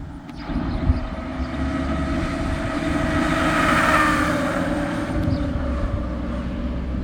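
A garbage truck drives past, its steady, loud low engine rumble swelling slightly and then easing, with no voices.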